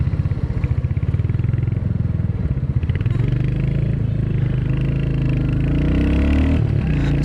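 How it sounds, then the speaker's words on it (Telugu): A Royal Enfield Hunter 350 motorcycle's exhaust thumps steadily while riding in traffic, a loud, close single-cylinder pulse that smooths and rises slightly in pitch as it accelerates, with no talking over it. "ట్రాఫిక్ వల్ల ప్రజెంట్ అయినప్పటికీ మీకు ఎగ్జాస్ట్ సౌండ్ వినొచ్చు."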